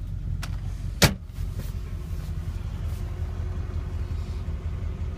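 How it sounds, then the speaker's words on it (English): A 1991 Chevrolet Corvette engine idles steadily as a low, even rumble, with a short sharp click or thump near the start and no voices. "Sitting here at a nice idle."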